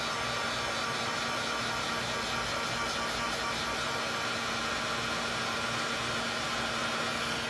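Steady, unbroken whoosh of a hair dryer blowing over wet paint, constant and close, with no other sounds.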